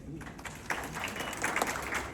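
Audience applause at a Pace University ceremony honoring Kenneth Chamberlain Sr., a soft, scattered clapping from a crowd that builds slightly, heard at a distance with faint voices underneath.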